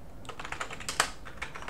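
Quick, light keystrokes on an English-layout computer keyboard, a brisk irregular patter of clicks heard close and fairly quiet.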